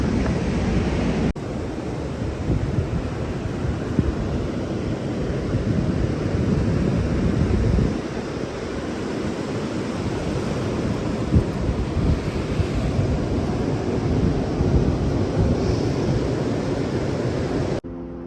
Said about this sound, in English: the waves are just softer and smaller